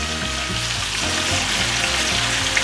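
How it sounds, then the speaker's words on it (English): A Wagyu picanha steak sizzles loudly in melted butter in a pan, a steady, close, crackling fry with a faint repeating rhythmic tone beneath it and no talk. "this is generally an effect that you'll get with your steaks if you pan sear them like this"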